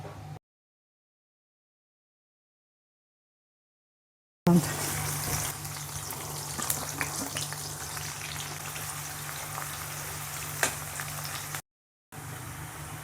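Masala spices for chicken kara pudi fry steadily in a pan, giving a continuous close sizzle with light crackle after an opening stretch of silence, broken by a brief gap near the end.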